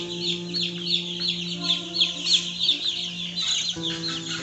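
Baby chicks, wet and just given water at a brooder, chirp in a dense, continuous chorus of high peeping over a steady low hum.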